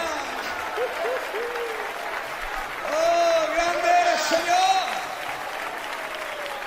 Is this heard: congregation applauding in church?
yes